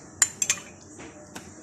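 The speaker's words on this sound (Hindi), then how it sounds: "थोड़ा सा बीटर से इसको इसमें मैं चला दूंगी ताकि ये सारी चीजें मिक्स हो जाएं" Quick metallic ticks and taps of a beater whisking French toast batter in a bowl, a few sharp clicks spread over a quiet moment, close and fairly faint.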